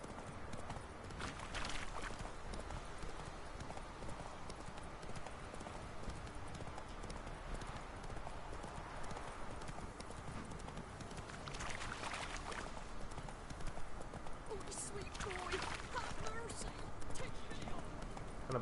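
A horse's hooves in The Witcher 3 clop in a steady rhythmic patter over a constant low rumble, with voices talking over it at times.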